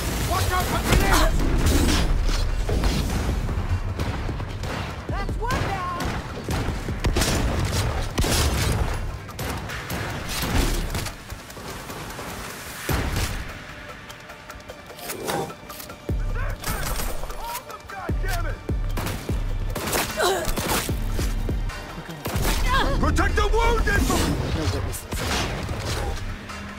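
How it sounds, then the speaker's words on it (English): Grenade blasts and heavy gunfire in the Cyberpunk Liberty 2070 video game, a dense, loud barrage of booms and shots running almost without pause, with voices in the mix. "Watch out for grenades!"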